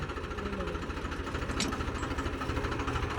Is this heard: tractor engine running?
yes